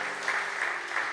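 A church congregation claps together in a steady wash of applause, filling the room evenly for about a second with no voices on top.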